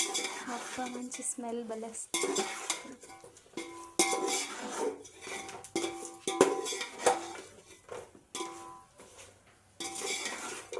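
Chicken fry piece biryani being mixed in a pot, with repeated scraping and clinking of a utensil against metal, moderately close and continuous, interrupted by brief talking.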